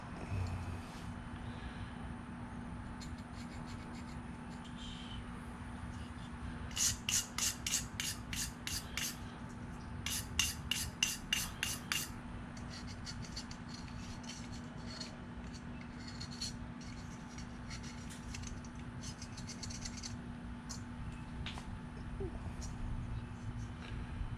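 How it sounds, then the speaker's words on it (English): Varnish and crust are brushed and scraped off the carburetor float of a free, repaired generator: two short bursts of quick rasping strokes stand out over a steady low hum. "We just want to lightly brush, scrape, clean"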